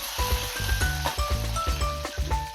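Curry leaves and a broken dried red chili hit hot oil for tempering, giving a steady crackling sizzle with quick pops and faint clinks of a utensil, close and continuous.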